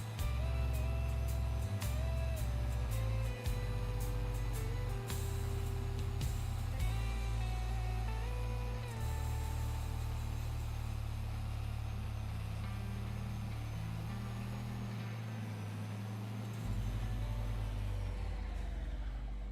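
Ford Versatile articulated tractor driving in the farming video game Farming Simulator 25, a steady low diesel engine drone with small shifts in pitch and brief clicks, loud and continuous with no talk.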